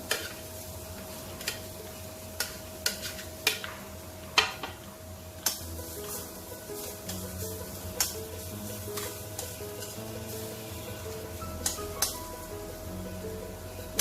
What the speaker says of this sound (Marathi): तांबडा भोपळा पण किसलेला घालू आणि परतून घेऊ चांगला